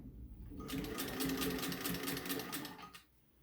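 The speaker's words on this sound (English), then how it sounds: "we're gonna back stitch over that elastic" A sewing machine back stitches over elastic on a homemade fabric face mask, a steady run of rapid needle strokes for about two and a half seconds, close and fairly loud, with no talk.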